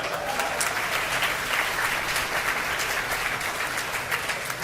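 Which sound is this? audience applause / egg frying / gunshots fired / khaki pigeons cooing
audience applause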